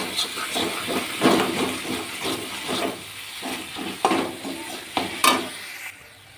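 Spices sizzle and hiss in a hot pan for urad dal, with close stirring scrapes and clinks rising over a steady frying bed; no talking.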